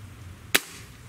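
A single sharp crack from an airgun, a Gamo Swarm Magnum or Hatsan 135 in .30 caliber, fired across a chronograph: one loud, brief close report standing alone against quiet background.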